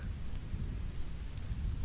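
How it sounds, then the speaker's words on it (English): Distant thunder rolls in a low, continuous rumble as steady rain falls, with no voices present. "Thunder continues to roll in the distance, and James gives in"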